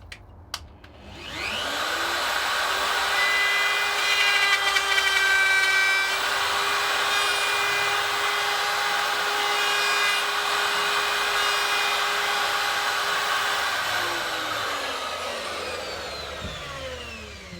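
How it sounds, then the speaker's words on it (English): A small handheld router cutting wood on a guitar body, spinning up to a steady high-pitched whine with a grinding cutting edge, held for about twelve seconds before winding down, close and loud. "this small router, just to demonstrate how you can do it with a handheld kind of thing"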